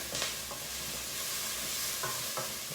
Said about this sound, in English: So let's stir some of these things here.